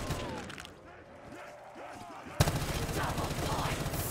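Bursts of light machine gun fire from Black Ops 3 custom Zombies, a rapid rattling volley that kicks in sharply partway through after quieter game sounds.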